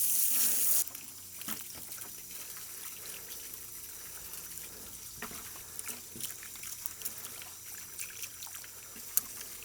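Cold water sprayed over catfish fillets at a cleaning station, a steady soft trickling hiss with small splashes and clatters, close and fairly quiet, no talking.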